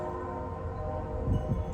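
A train horn sounds in a steady, drawn-out drone from a distance, with low rumbling underneath that swells slightly toward the end.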